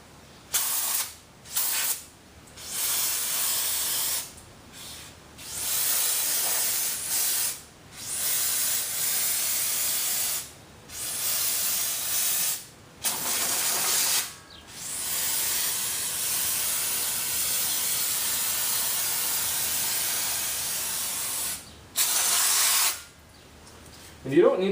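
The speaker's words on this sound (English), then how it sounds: "My old friend brake cleaner here." Brake cleaner sprays from an aerosol can onto Jeep Grand Cherokee brakes in repeated loud, close hissing bursts of several seconds each, separated by short pauses.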